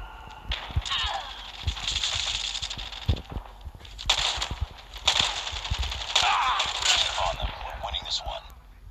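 M16 rifle fire in the Call of Duty video game, repeated sharp shots in bursts amid game noise, with a person talking intermittently over the gunfire.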